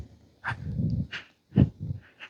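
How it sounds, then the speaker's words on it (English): A small dog snorts, sniffs and whimpers in short close bursts outdoors on a walk by a road, with soft breathy pauses between the sounds. "This is a good little dog."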